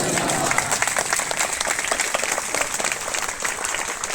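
Church congregation at a Catholic parish declaration ceremony breaks into loud, sustained applause, a dense continuous wash of many hands clapping together throughout, steady and full without pause.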